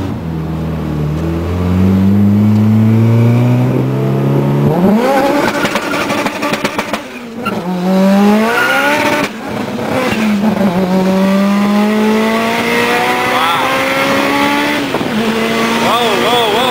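A turbocharged Honda Civic Si accelerates hard through several gears, its engine note climbing repeatedly and bouncing off the rev limiter with popping exhaust, loud and close from inside the car with a few brief voices.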